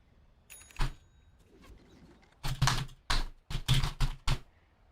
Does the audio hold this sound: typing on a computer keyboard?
yes